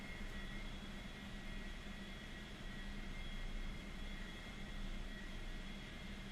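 Steady airplane engine drone in a flight video game with the throttle pulled back, a constant broadband roar with a faint hum, fairly quiet and even throughout with no talk.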